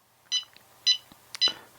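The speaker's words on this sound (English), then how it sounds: "What is that third beep for? This is basically it's the alarm timer." A DroneKeeper Micro quad locator alarm gives out three loud, high, electronic beeps at even intervals, each short and clear against near silence, with a faint tick between them.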